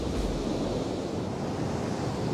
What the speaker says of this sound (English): Lots of waves.